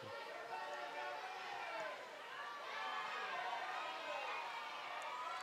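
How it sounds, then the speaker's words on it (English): A crowd at a summer baseball game makes a continuous distant roar and chatter, a steady wash of many voices with no single clear speaker. "Crowd making some noise"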